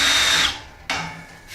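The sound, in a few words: countersink drill bit deburring a punched hole in metal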